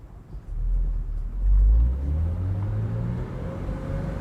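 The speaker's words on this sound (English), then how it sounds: "Nice and easy over the speed bump." A 2001 Porsche Boxster S engine rumbles low and close, swelling briefly as the car eases slowly over a speed bump, then settles into a steady idle-like drone.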